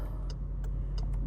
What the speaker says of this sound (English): Probably gonna take a minute for this car to warm up